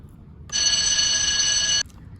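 A phone rings once in a single sustained electronic tone lasting over a second, loud and close, against a quiet background.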